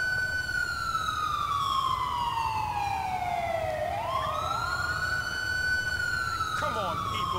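A wailing ambulance siren in the video game GTA IV, modded with LCPDFR, slowly sweeps down in pitch and then back up, loud and continuous over low traffic rumble.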